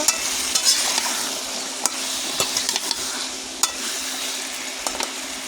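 Potatoes and plantain in a pan for a hilsa fish curry, stirred vigorously: a continuous frying sizzle with regular scraping and knocking of the spoon against the pan, close up and fairly loud.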